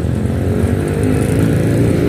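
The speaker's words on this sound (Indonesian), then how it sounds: "Suara desingan knalpot, keramaian daripada Stadion Kanjuruhan di pelatara" Motorcycle exhausts whine and drone outside Kanjuruhan stadium at night, a loud continuous engine hum close by with a faint high whine above it and no talk.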